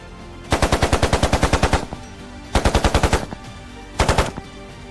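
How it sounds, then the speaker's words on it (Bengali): Sound-effect gunfire for a Bengali ghost-train audio story, with police and soldiers firing at a train halted on a river bridge: three rapid machine-gun bursts, a long one, a shorter one and a brief final burst, loud with gaps between. "পুলিশ মিলিটারিরা ঘন ঘন গুলি ছুটতে লাগলো ওই ট্রেনটাকে তাক করে"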